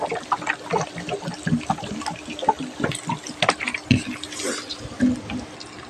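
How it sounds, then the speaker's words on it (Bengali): Water poured into a pot of cooking rice, a brief irregular splashing and trickling pour heard close up with no talk. "তাই জল দিয়ে দিচ্ছি।"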